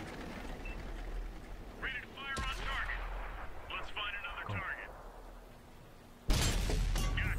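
An ISU-152 fires its cannon in the Xbox 360 game World of Tanks, with a sharp thump midway and a louder, booming shot near the end, while someone talks excitedly over the battle ambience.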